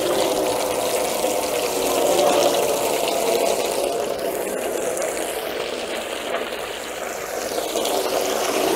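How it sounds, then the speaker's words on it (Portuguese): Tap water runs steadily for washing, a continuous close splashing rush that stays even throughout with no talking. "Então, vou pôr aqui a água."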